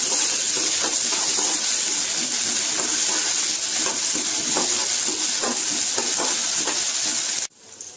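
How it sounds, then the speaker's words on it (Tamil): Small shallots sautéing in hot oil for a vegetable masala curry, a loud, continuous close-up sizzle with faint stirring taps, cutting off abruptly near the end. "சின்ன வெங்காயத்தை சேர்த்திட்டு அப்படியே வதக்கிக்கலாம்"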